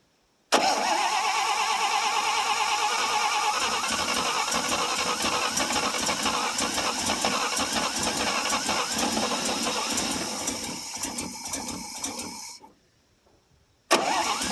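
A flooded 1957 International S120 4x4 pickup, started after sitting for four years, cranks and catches, then runs loud and close in a steady roar that fades and cuts out before briefly firing again.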